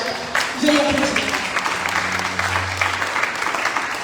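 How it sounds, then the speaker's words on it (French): A church congregation claps at a pastor's call, sustained mid-level applause with voices and a sung or held tone mixed in beneath it. "Put your hands together. Veuillez applaudir."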